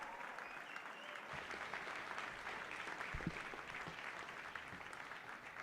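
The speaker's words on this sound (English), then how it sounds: "keep the applause going, make some noise" An audience at a mayoral debate keeps up sustained, dense applause, a steady roar of clapping filling a large room, moderately faint, with a few cheers and thumps mixed in.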